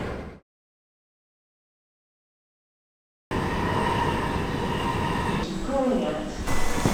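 After a stretch of silence, the steady rumble of a moving train fills the carriage of a London Overground service, with rattling, a rising squeal of wheels and a brief clatter near the end.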